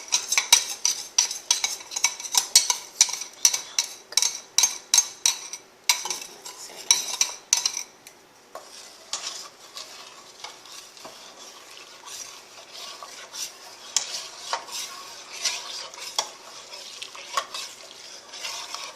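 A utensil stirring a mixture into milk in a pot for baked rice pudding, heard as a rapid series of close scraping and clinking strokes that grow softer and more scattered partway through, with no talking.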